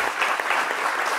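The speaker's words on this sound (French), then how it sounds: "Merci d'applaudir très fort Monsieur Hervé Ndri Kwaku," A studio audience on a French-language midday TV show applauds a guest, with a steady, dense patter of clapping hands at moderate distance and no voices over it.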